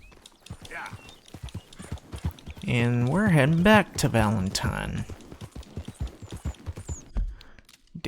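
Horse hooves clip-clop in Red Dead Redemption 2 with a rider heading toward Valentine, a steady walking rhythm of crisp hoof strikes throughout, joined midway by a loud whinny, with someone talking over it.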